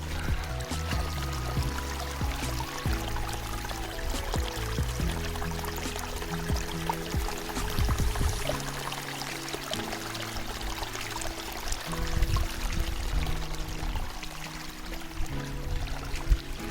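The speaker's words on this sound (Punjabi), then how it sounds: "ਵਾਹ ਝਰਨਾ ਦਾ ਛੋਟਾ ਜਿਹਾ ਆ" A small waterfall flows in jungle hills, its continuous splashing and gurgling pour steady and close for a long stretch, with no one talking over it.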